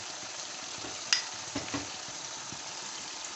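Green chillies go into mutton kidney masala frying in ghee: a steady, soft background sizzle broken by two or three brief stirring knocks, with no talking.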